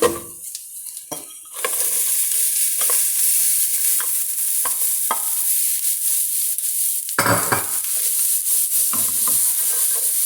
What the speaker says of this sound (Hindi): बस थोड़ा सा इसको भूनना है 1 से 2 मिनट